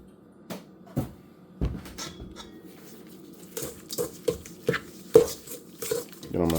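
Vanilla extract being mixed into wafer batter with a utensil in a bowl, scattered clinks and knocks against the dish at irregular intervals, fairly quiet with pauses between.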